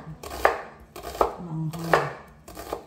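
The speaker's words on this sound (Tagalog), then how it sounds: "Hinugasan na po natin ang ating sibuyas. Hiwain lang natin ng sobrang nipis." A knife slices a washed onion very thinly on a cutting board, landing four distinct chops at a steady, unhurried pace, with a faint low hum running underneath.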